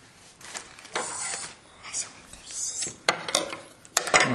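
A knife slicing open a mail package, quick close scraping and cutting strokes with sharp clicks and rustles of packaging, under soft, low voices.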